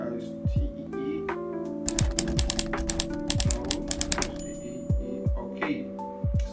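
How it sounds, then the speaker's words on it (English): Computer keyboard typing in quick bursts of clicks and taps, close and moderately loud, with music-like tones and speech running underneath. "let me quickly type it down here so that you can see what I'm talking about"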